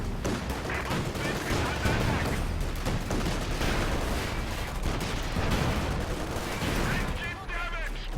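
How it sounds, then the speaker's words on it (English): Rolling battle noise from a World War II strategy game as bazookas and anti-tank grenades fire and burst, with repeated sharp bangs and crackling shots layered continuously over several seconds. "A lot of bazookas and AT grenades coming in here"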